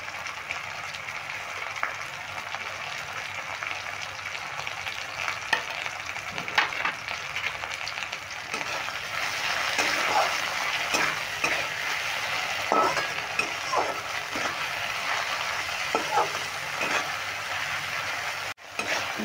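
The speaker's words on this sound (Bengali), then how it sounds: "দেখো পেঁয়াজ আর টমেটো একদম ভালোভাবে ভাজা হয়ে গেছে" Onions and tomatoes cook down in oil with salt added, a quiet continuous sizzle with scattered utensil clinks and stirring taps across the pan, no talking.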